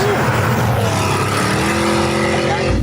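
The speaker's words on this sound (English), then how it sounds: "it emits internal combustion noises that correspond with the vehicle's speed and RPM" Simulated combustion-engine noise from a Borla Active Performance system on a Mustang electric crossover, a loud, continuous synthetic engine drone with layered tones and no pauses, sounding like a racing car at speed.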